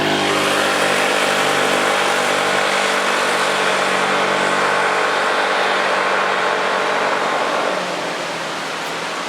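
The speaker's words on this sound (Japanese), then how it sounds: "ここから上り勾配が徐々にきつくなってくるので、フルスロットルまで使ってみたいと思います" A Honda ADV160 scooter runs at full throttle up a steepening mountain pass road, producing a continuous loud engine drone mixed with rushing wind that eases slightly near the end.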